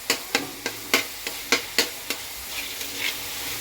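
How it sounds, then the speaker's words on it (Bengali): Cashews and raisins fry in a pan while a spoon stirs them in a run of quick, regular scraping strokes over a soft sizzle, and the strokes fade into a gentler frying hiss. "এগুলো ভাজা হোক।"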